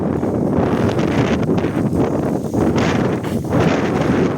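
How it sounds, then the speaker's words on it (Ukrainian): Wind blows hard and steadily on a street in Truskavets, Ukraine, buffeting the microphone with a loud, gusty roar that rises and falls. "Знову вітерець."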